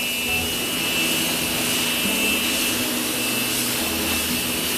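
A pressure washer sprays a dirty construction tire with a loud, continuous hissing roar and a steady pump whine that stays constant throughout, close up and with no talk.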